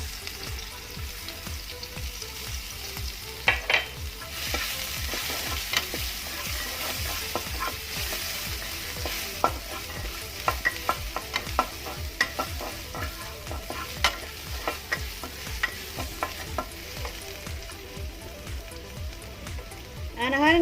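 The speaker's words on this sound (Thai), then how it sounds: "กระทะร้อนอยู่แล้วนะคะ เอากระเทียมลงไปเลยค่ะ" About twenty cloves of Thai garlic sizzle and crackle steadily in a hot wok, with frequent scraping stirs and clatter of a utensil, close up.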